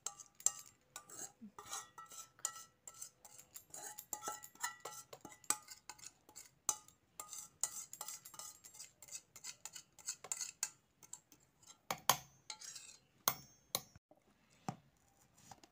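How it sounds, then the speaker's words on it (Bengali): Semolina and milk batter is scooped into a mixing jar, producing a scatter of close, light clinks and taps of a spoon against metal and dishes, irregular and sparse over quiet. "এবার ব্যাটারটা আমি একটা মিক্সিং জারের মধ্যে ভরে নিচ্ছি।"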